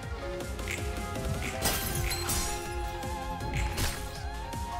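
In the video game Library of Ruina, a glass-shattering effect sounds as bright crashes and tinkling shards ring out over a layered, resonant musical background, with several sharp bursts at irregular intervals.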